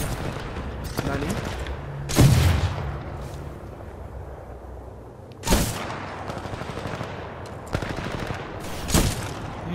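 Gunfire in the video game Titanfall 2 comes in several loud, sharp bursts spread across the clip, with quieter game ambience between them.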